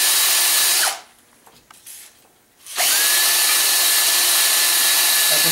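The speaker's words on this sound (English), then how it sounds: "since these lifters were so hard to come out, just giving them a quick blow clean" Quick blast of compressed air cleaning engine lifters from a 1978 Chevy 350 Camaro motor, a loud steady hiss that cuts off for about two seconds mid-way, then resumes at full strength.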